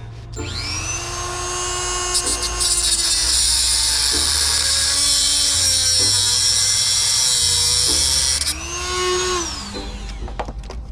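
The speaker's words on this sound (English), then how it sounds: "So I have to take my Dremel and chop that off." A Dremel rotary tool cuts off a part near the fuel pump of a 1984 GTI project car. It gives a loud, sustained high-pitched whine that rises and falls as it bites, running close by for several seconds.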